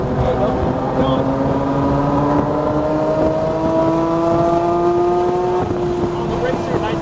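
Porsche GT3 accelerating hard down the straightaway at Milwaukee Mile, engine note climbing steadily through the revs from inside the car, loud and continuous, with an instructor talking over it.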